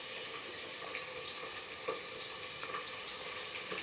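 Potato curry sizzles and fries in a home kitchen pan, a steady close hiss with faint crackles and small pops throughout, no voices over it.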